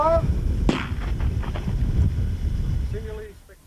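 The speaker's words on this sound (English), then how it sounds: "We placed a number 8 electric detonator into the glove, and we're going to detonate that" A number 8 electric detonator bursts inside a sand-filled leather glove outdoors, one sharp close blast followed by wind noise and a brief voice.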